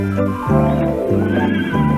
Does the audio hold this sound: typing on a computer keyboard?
no